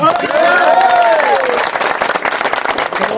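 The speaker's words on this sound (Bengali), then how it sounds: "সবাই আমার একটা হাততালি দিই" A burst of clapping and crowd noise at a ward election victory gathering, fairly loud and close, with a voice over it at the start.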